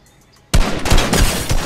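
Gunshots in the video game Fortnite, a sudden loud burst of rapid shots breaking out of near silence and continuing as clustered cracks until the end.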